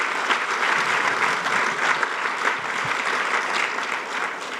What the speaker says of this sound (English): just give all the board members a round of applause for what they're doing